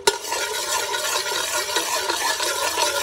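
Garlic and ginger fry in oil in a pan for a chicken karahi, giving a steady, close sizzle with a light stirring scrape near the start.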